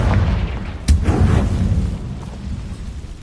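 Blasting-spell explosion in Hogwarts Legacy: a single sharp, booming burst over a low rumbling background that slowly fades.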